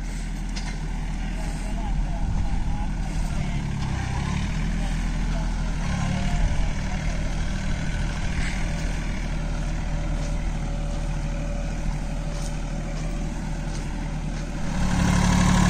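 A Swaraj Target 630 4WD mini tractor engine drones steadily with a low, rumbling idle throughout while ridge farming in a field, a person talking over it, the engine swelling slightly louder near the end.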